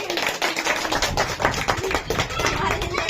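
Children clapping their hands in a dense, continuous patter of overlapping claps, close and loud throughout, with voices mixed in.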